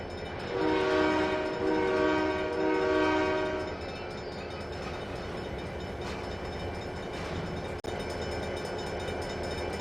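A train in the Trainz 2022 railroad simulator sounds a long two-part horn blast, then rumbles onward with a steady rolling drone and faint rail clatter, no voices heard.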